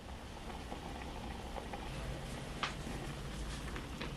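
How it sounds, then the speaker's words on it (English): Ramen noodles boiling over in a small countertop noodle cooker: a steady bubbling, roiling boil, continuous and close, with a few faint clicks and no voices. "Yeah, it's really boiling over."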